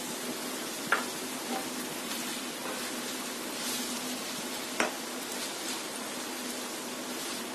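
Chicken and vegetables sizzle steadily in a pan with chili flakes, a continuous even fry broken by two brief sharp clicks of stirring.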